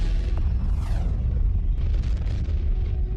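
A massive star exploding in a gamma-ray burst, rendered as a loud, continuous deep roaring rumble with a sweeping whoosh and crackling bursts throughout.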